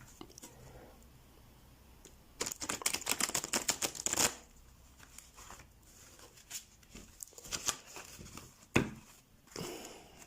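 Crisp riffling bursts of large tarot cards being shuffled, quick flurries of papery snaps in short runs with pauses between, close and moderately quiet.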